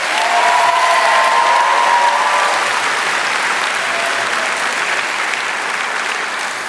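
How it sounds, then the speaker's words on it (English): A large graduation-ceremony crowd applauds loudly for the state bowling champions, a thick, continuous wash of clapping that holds steady and eases only slightly by the end, with no talking heard. "A special round of applause for Hannah Ellman and Whitney Heiss"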